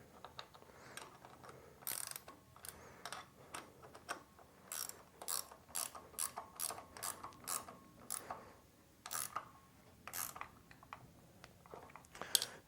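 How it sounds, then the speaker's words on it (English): A ratchet socket wrench tightens a pinch bolt in quick bursts of sharp clicking, pausing briefly between strokes over roughly twelve seconds, close and fairly quiet. "All right, so we're going to tighten this pinch bolt down."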